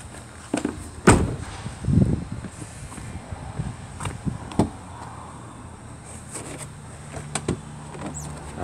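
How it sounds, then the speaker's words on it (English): Inside a Dethleffs Trend camper van, the bonnet release lever is pulled and gives a couple of solid clunks and a thud, followed by quieter knocks and rustling in the cramped cab. "just pull that to open the bonnet"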